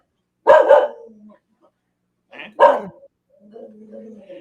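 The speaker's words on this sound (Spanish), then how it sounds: "Ahí está interviniendo mi perro, está asustado con la caída de Babilonia." A frightened dog barks a few times nearby, giving two loud sharp barks and then softer whimpering yelps, with quiet pauses in between.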